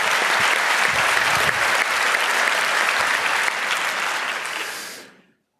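A conference hall audience at a physics talk on LHC data analysis with ROOT gives dense, sustained applause that holds steady, then fades out quickly at the end.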